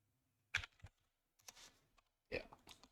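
Short clustered bursts of keystrokes on a computer keyboard typing into a terminal in the game Grey Hack, three quick groups of clicks separated by quiet pauses, close and crisp.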